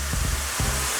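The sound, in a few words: smoked paprika sizzling in hot oil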